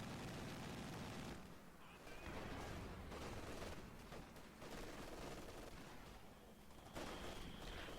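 A grenade goes off in Company of Heroes 2 amid a busy battle, with dense rumbling explosions and scattered gunfire, a heavy burst late on, and no talking.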